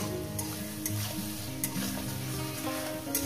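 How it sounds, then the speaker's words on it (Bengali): Onions frying in a pan until reddish-pink, a loud continuous sizzle heard up close, broken by a few brief stirring clinks, with no speech over it. "ভালো করে সুন্দর করে পেঁয়াজটাকে একটু লাল লাল করে ভেজে নেব"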